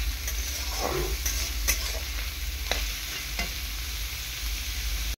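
Carrots and other fried rice ingredients fry in a pan with a dense, continuous close sizzle, while occasional light spatula strokes and taps sound over the hiss.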